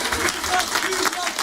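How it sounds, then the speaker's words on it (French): A studio audience at the Fréquence Plus radio studio applauds June the Girl, a dense patter of clapping that fills the short moment while a voice speaks over it. "Applaudissements pour June the Girl"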